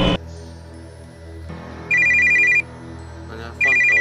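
A phone rings in the video game FNaFB 3, two bursts of a high electronic ringtone separated by a pause, loud and close over a low game background hum.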